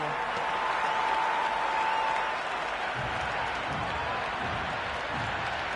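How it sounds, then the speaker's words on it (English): Steady roar of a stadium crowd cheering and clapping after a boundary in the video game Cricket 26, a T20 World Championship semi-final between England and West Indies, with commentator talk over it throughout. "There's an almost tangible fervour throughout the crowd at the moment."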